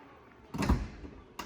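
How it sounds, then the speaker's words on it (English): A Jaguar car's powered rear door runs after a button press: a fairly loud whirring sweep of about half a second, then a short quieter tail and a faint click near the end. "So if we hit the button, there goes the door."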